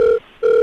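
Telephone ringback tones sound as a radio host places a prank call. Two loud, steady electronic beeps come close together with a short gap between them, and no one speaks.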